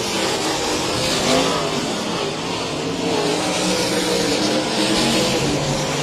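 Sprint race cars roar around the Heart O' Texas Speedway oval in a Bandit Outlaw Sprint Series race, a loud, continuous engine drone swelling and fading as cars pass close by, with no talk.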